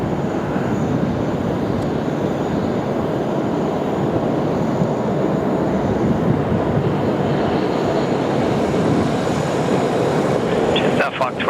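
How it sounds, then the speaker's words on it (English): A Qatar Airways Airbus A380 at Sydney Airport gives a loud, steady jet roar that holds evenly throughout, with someone talking over it. "The Qatar A380, the Super Q here on the SydSquad show."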